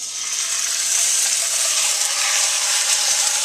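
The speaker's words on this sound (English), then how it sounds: "And now we just brown both sides, or all sides of the pot roast." A beef pot roast browning in a hot pan gives a steady, loud, bright sizzle that continues without a break throughout.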